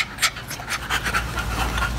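A brand-new puppy pants close by in quick, steady, breathy huffs with no talking over it.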